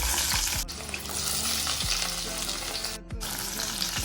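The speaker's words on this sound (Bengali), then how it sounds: "তেলটা গরম হয়ে গেছে, তো আস্তে আস্তে এবার পেঁয়াজটা দিয়ে দিলাম।" Onions frying in a generous amount of hot oil for a Bengali ilish macher sorse jhol with eggplant, with a steady loud sizzle and occasional stirring scrapes, without any talk.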